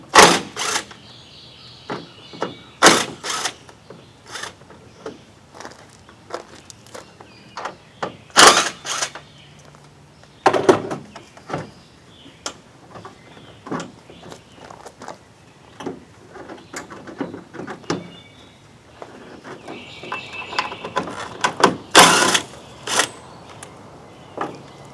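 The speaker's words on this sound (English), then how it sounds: "Unbolt the headlights." A ratchet unbolts the headlights on a 2011-2016 Ford F250 pickup, producing scattered sharp clicks and clacks close by, spaced irregularly, with busier bursts of ratcheting near the end.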